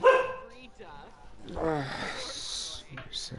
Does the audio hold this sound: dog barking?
yes